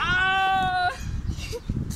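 A goat bleats once up close, a loud wavering cry that breaks off midway as background chatter continues.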